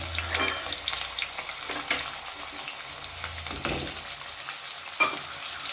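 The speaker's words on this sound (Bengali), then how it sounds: "গাজর দিয়েও বেশ ভালো করে নাড়াচাড়া করে নেবো" Potatoes and carrots stirred as they fry in a pan for a daliya dish, a continuous close sizzle broken by repeated scraping stirs and a sharp clink near the end, with no one talking.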